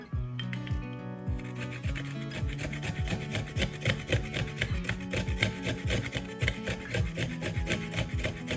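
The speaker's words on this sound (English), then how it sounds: "We need to peel and chop up our onions, our garlic, and grate our ginger." Fresh ginger rubbed back and forth over a grater for mango chutney, a steady rhythmic rasping scrape repeating in quick strokes, close and fairly loud with no talking.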